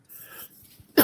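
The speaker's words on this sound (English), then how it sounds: "Sorry, I'm going to cough again." One sharp cough, close and loud, following a brief stretch of throat noise and a faint breathy murmur.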